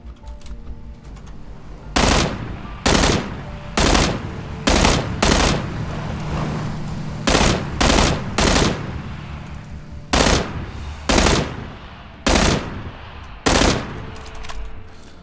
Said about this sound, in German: links sind Schüsse zu hören, ist aber nicht unser Boot, kein Problem